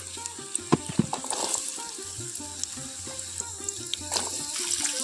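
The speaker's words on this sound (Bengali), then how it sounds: "এখানে আমি প্রথমেই দিয়ে দিচ্ছি কেটে রাখা আলুগুলো" Cut potatoes hit hot oil in a kadai and fry with a crackling sizzle, with a few sharp clatters of a spoon or pan early on, close and fairly quiet, and nobody speaking.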